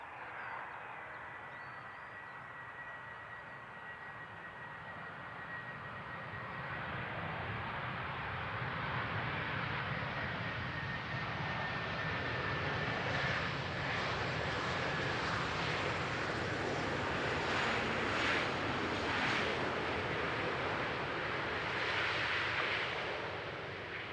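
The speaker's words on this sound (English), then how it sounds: "this would be a 737 MAX 8" A TUI Boeing 737 MAX 8 lands at Amsterdam Schiphol, heard from outdoors. The jet engines roar as a broad rush that builds from moderate to loud as the aircraft nears, then holds strong with a faint whine on top.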